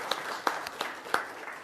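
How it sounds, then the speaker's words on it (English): Short applause breaks out at a city council meeting in El Cajon, a thin scattering of claps from a small indoor crowd, with a few sharper hand claps standing out. "we want to recognize James, so an applause for him"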